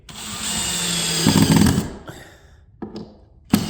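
A power drill drives screws into a drywall panel in a home office, whirring steadily for about two seconds before winding down, then giving two brief follow-up bursts, close and loud.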